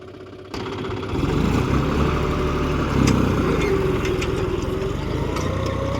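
A John Deere 5045D 4WD tractor with a cultivator runs steadily in second gear high, its diesel engine a loud, continuous close drone that picks up after a brief quieter start.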